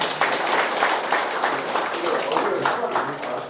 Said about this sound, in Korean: 주민 여러분 두 번 박수 한번 부탁드립니다